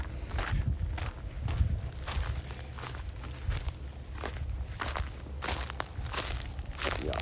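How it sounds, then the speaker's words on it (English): Footsteps crunch outdoors, a series of irregular near steps on a gritty, crackly surface, fairly faint with no talking. "Y'all hear the footsteps?"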